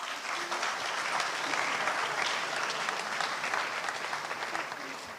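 Steady audience applause at a school winter sports awards ceremony, a dense, even clatter of many hands clapping for several seconds.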